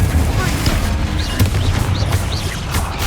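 A Confringo fire spell cast in the Hogwarts Legacy video game, heard as a sharp explosive crack over a dense rumbling game soundscape, with short chirping effects following.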